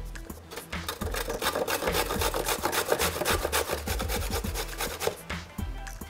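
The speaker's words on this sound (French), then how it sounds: "Maintenant, on va râper le giraumon avec les gros trous de la râpe." Giraumon squash rasped against the large holes of a kitchen grater, a rapid run of rough scraping strokes, close and continuous, with a brief pause near the start.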